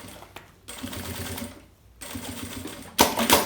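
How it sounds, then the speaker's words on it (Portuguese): Domestic sewing machine stitching the side seam of a mirrored cosmetic case, running in several steady whirring bursts with short pauses between, loudest in the final burst. "Passo uma costurinha aqui."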